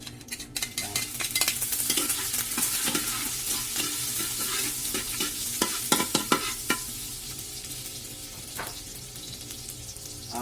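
Garlic sautés in hot cooking oil for crispy bihon: a steady, close sizzle with repeated scraping and stirring strokes from a spatula in the pan, busiest early on and calming toward the end.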